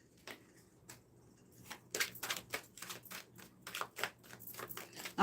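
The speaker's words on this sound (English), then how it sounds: "Let me get you some good shuffles in." Tarot cards from the Tarot Apocalypse deck are shuffled close by, quiet at first and then a run of quick papery riffles and taps, with no talk.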